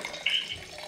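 Simple syrup pours briefly into a drink glass, a short close liquid trickle lasting under a second.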